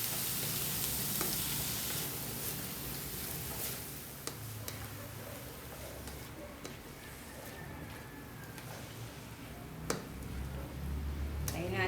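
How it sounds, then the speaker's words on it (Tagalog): Onion and tomato sautéing in a pan for menudo give off a quiet, continuous sizzle, with scattered ticks and clicks from stirring. "Magigisa natin mabuti hanggang sa malamog"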